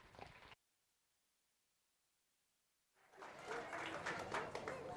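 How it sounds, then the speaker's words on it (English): An audience claps at the Las Animas County Fair beef show in 2024. A brief burst of sound is followed by a silent gap, then a dense, sustained round of applause fills the final seconds. "Let's go ahead and give this young lady a round of applause"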